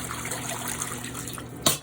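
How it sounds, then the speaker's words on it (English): Water pours steadily into a cooking pot holding a lamb head, a continuous close rush with a brief louder splash near the end. "I'm gonna add some water"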